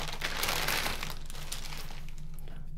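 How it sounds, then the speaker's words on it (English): Plastic bags crinkle and rustle steadily and up close while a gaming PC is unpacked, the crackling busiest at first and thinning toward the end. "Wow, a lot of plastic bags."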